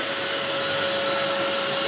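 A Polti vacuum cleaner with a 360-degree rotating attachment runs steadily with a loud, even motor whine and a constant airflow hiss, and there is no talk.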